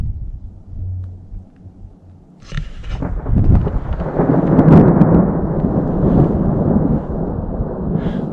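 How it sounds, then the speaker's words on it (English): Thunder rolls through a storm, a sharp crack building into a loud, sustained rumble with steady rain hiss underneath, close and powerful, no voices. "I don't believe all of the lightning and thunder that's going on."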